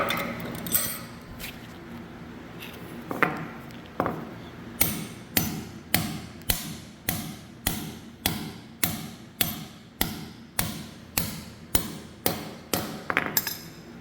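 A hammer drives a part deep into a hole during an Atlas PV10PX hoist install, about twenty steady, evenly spaced metallic whacks, loud and close, after a few scattered taps and handling sounds at the start.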